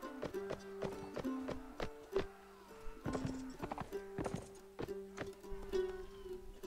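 Horse hooves clip-clop steadily in a medieval Hundred Years War video game, with a neigh or whinny mixed in over sustained music-like tones, all fairly quiet and close.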